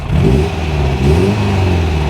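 A late Abingdon-built MGB GT's engine turns over and revs, a close, loud mid-pitched rumble rising and falling through two blips of the throttle before settling into a steady idle.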